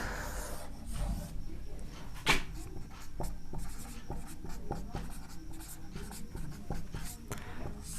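A teacher writes out a maths problem on a board during a lesson, the scratchy, rhythmic strokes close and continuous for several seconds, with one sharp tap partway through and no speech over the writing.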